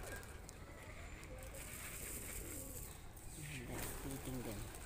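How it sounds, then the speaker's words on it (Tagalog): Pigeons coo softly in a park in London, their low burbling calls coming in short bursts near the end, partly under people chatting nearby. "Hey, the bird."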